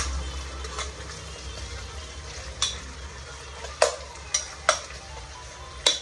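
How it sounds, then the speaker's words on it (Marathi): Onion, tomato and bay leaf fry in a pan with a low steady sizzle, punctuated by several sharp clicks and knocks of a utensil against the pan. "टाकलं कांदा, टोमॅटो आणि तेजपत्ता टाकला. आता आपण फ्राय होऊन घेऊया."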